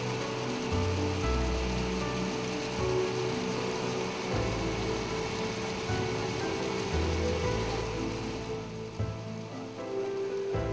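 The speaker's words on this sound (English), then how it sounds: "The clean flowing water accumulates into a tank." Clean treated water pours steadily into a holding tank at an effluent treatment plant after settling, a continuous loud rushing wash with a low churning rumble throughout, no talk.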